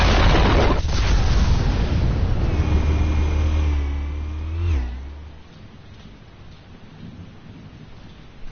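Explosives going off in the Batman Telltale game: a heavy, rumbling blast that roars loudly for several seconds with a whining tone, then fades to a low hum.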